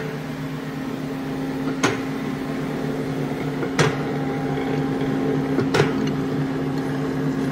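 A Vemag 500 vacuum stuffer with a hopper scraper runs with a steady mechanical hum and drone, while three sharp clanks land at roughly two-second intervals over the constant machine noise.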